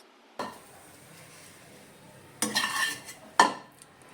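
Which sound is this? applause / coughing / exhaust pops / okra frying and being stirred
okra frying and being stirred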